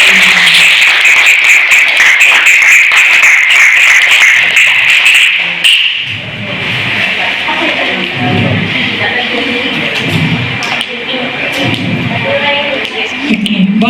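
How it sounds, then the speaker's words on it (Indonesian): A crowd claps for teachers receiving certificates at a school group's museum visit, with dense, loud applause for about five seconds that gives way to voices talking nearby. "Tepuk tangan dulu dong."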